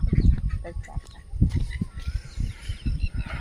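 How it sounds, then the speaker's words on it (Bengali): Ducks in the Sundarbans mangrove forest give a run of short, close quacking calls that come in uneven bursts over a low outdoor rumble. "এই যে হাঁসগুলো দেখতে পাচ্ছ এগুলোকে হাঁস বলে"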